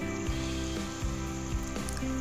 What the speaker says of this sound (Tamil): உப்பையும் போட்டுட்டு நல்லா வதக்கலாம்.